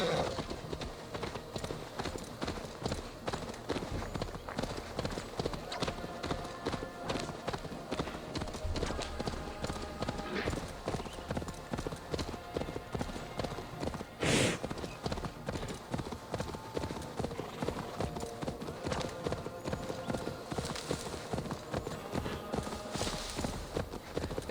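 Steady clip-clop of horse hooves trotting in the video game Assassin's Creed Valhalla at a brisk, even rhythm throughout, with a constant background hum and a brief bump midway.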